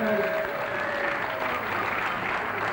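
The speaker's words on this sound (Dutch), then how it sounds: "een heel goed applaus voor deze Pieper Nijmhuis" Applause for a competitor at a 1985 Friesland strongman contest, steady and sustained throughout, with no voice heard in it.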